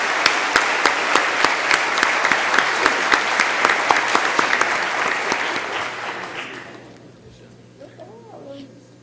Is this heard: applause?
yes